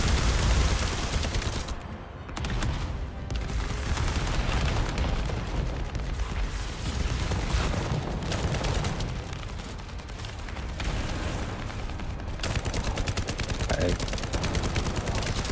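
Sustained gunfire and booming impacts while shooting at a boss core in the video game The First Descendant, a dense, loud, continuous barrage of shots and explosions that carries on for the whole stretch.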